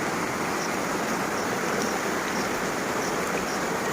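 Floodwater pours across a village road after heavy rain, a loud, steady rushing wash with no breaks, close by and alone.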